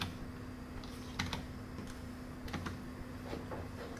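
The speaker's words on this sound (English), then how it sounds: "we'll just go ahead and type in a new Bolus name" Computer keyboard typing at a desk, a few scattered key clicks in short bursts, close but quiet over a steady electrical hum.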